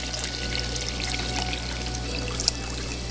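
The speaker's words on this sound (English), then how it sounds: "what you're going to then want to do is pour the water into your cup." Salt water at a set salinity pours steadily into a cup for a phytoplankton culture, a soft continuous trickle under a low steady hum, with one small clink near the end.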